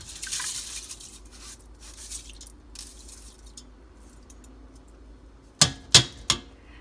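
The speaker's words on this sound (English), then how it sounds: "So the water is on the stove and right away I add my washed rice." Washed rice tipped into a pot of cold water on a stovetop: soft watery squishes and drips, then three sharp close splashing clatters near the end.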